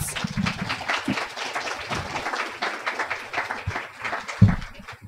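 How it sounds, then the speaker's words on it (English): Applause from a conference audience thanking a panel at a waterfront and shoreline resiliency conference, a moderate spread of clapping with a few louder nearby claps, steady for about five seconds. "a round of applause for the panelists"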